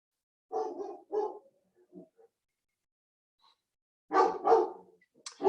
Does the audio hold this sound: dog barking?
yes